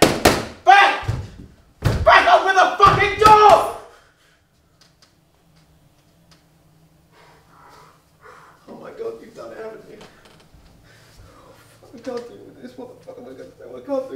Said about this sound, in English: I'm going to have to kick the door down.